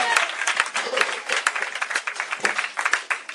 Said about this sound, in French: Est-ce qu'on peut applaudir pour le Seigneur Jésus-Christ?